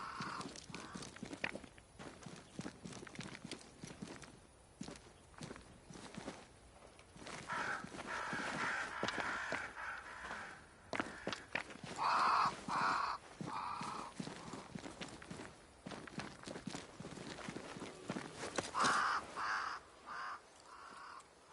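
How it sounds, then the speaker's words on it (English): Crows caw repeatedly in the video game Banishers: Ghosts of New Eden, harsh calls clustered in bursts over a busy backdrop of hoof clops and footsteps, fairly close and prominent. "Crows. They flock to that great tree up there."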